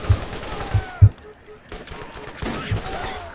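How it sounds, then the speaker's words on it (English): Scattered gunshots from enemies in the shooter game Borderlands, a few sharp close bangs early and then lighter, more distant shooting, with people talking over the action. "There's some guys over here shooting you"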